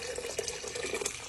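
Water pours steadily from a tap into a pot for cooking rice, a continuous close splashing trickle with no voices.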